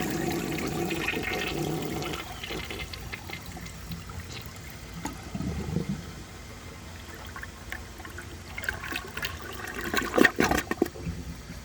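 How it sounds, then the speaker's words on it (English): A 1984 American Standard Cadet toilet flushing from a dry bowl, water rushing and gurgling, then a quieter refill trickle with a final burst of splashing, close up. "let's see how it flushes with a dry bowl"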